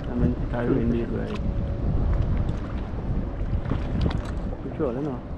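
Gusty wind buffets the microphone in a steady rumble while several people talk and laugh nearby on a fishing trip off Trinidad's west coast.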